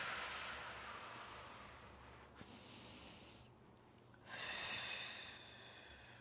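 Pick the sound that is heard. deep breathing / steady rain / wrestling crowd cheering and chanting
deep breathing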